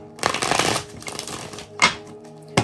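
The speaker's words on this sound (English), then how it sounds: "I'm going to shuffle these cards real good." A deck of tarot cards shuffled by hand, a close, loud riffling flutter followed by softer handling and two sharp snaps as the cards are squared.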